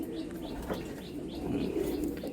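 Female patta pigeons of the Golden Ice kind coo in a continuous low throaty chorus, with a few faint flutters and chirps near the birds and no talking.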